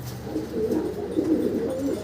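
Fancy pigeons coo steadily at a loft, a low continuous burbling from several birds close by with no voices over it.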